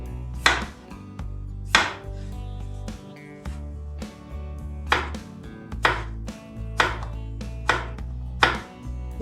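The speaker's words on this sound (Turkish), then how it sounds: "normal parmak patates boyutunda patateslerimi doğruyorum" A knife chops potatoes into finger-sized fries on a board in steady, evenly spaced thuds, about one every second, close and loud with no talking.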